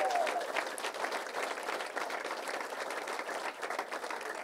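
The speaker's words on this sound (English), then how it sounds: "just take a round of applause" Applause from an audience at a bill signing, honoring a legislative team; steady dense clapping throughout, moderately loud, with a murmur of crowd voices underneath.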